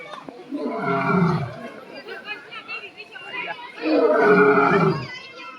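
Two deep, drawn-out tiger roars, one near the start and another toward the end, rise over a crowd of people chattering nearby.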